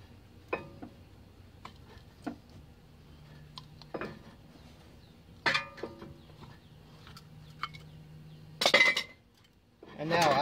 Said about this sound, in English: Take a C-clamp, like so, clamp it onto it, and just tighten it down.